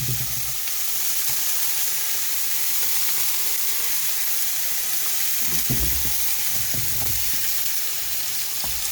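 Pork belly frying in cooking oil in a pan, giving a loud, continuous close-up sizzle with a few low clunks and shifts of the meat partway through.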